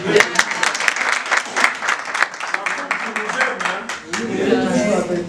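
A small audience applauds a visiting guest, close, lively clapping in uneven bursts, with voices talking over and between the claps.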